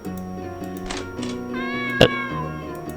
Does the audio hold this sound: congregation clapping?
no